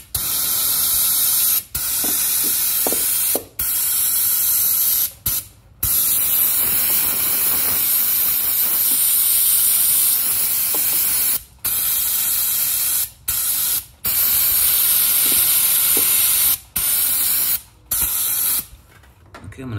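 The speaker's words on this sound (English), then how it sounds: "with some brake clean." Brake cleaner sprays onto oily engine parts around the valve cover of a Toyota/Lexus 4.7 V8, loud close hissing bursts separated by a string of brief pauses.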